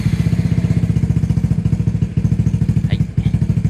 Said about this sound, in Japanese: で、エンジンかけます。